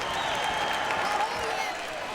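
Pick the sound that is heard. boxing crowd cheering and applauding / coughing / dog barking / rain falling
boxing crowd cheering and applauding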